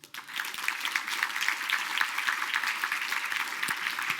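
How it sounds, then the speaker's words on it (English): Steady, even applause from an awards ceremony audience, a dense wash of clapping that rises quickly and holds through the whole stretch with no voices. "Please give her one more applause."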